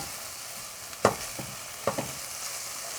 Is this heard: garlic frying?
yes